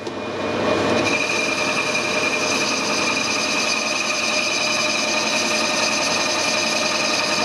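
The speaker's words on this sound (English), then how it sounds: "Knurling's not cutting metal, it's forming metal" A metal lathe knurls a hardened vintage grease cap, giving a steady, continuous mechanical grinding whir with a rattling edge that runs unbroken and fairly loud throughout, with no talking.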